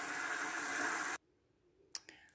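Water pouring into an Aqueon 10 gallon aquarium as a steady broadband hiss that stops abruptly after about a second, followed by quiet and a couple of soft clicks.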